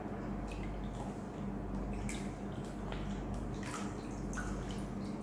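A Q Mask face mask is rinsed in a basin of water, giving continuous soft sloshing and dripping with small splashes, close and steady throughout, with no talking.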